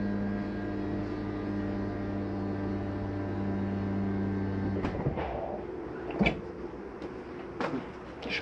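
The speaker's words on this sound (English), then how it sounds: "I'm going to go ahead and close this door." A door on a 2021 Forest River Arctic Wolf 3660 travel trailer closes after several seconds of steady interior hum, with a few sharp thuds and clicks close by as it shuts and latches.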